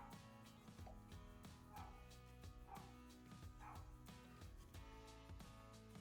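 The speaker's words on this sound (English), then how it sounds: "Neighbor's dog is losing its mind." A neighbor's dog barks and yips in the distance, very faint and repeated about once a second, behind a low steady background hum.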